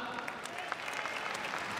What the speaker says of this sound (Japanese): 皆様今一度盛大な拍手を